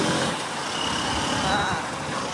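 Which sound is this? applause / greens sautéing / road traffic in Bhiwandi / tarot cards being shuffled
road traffic in Bhiwandi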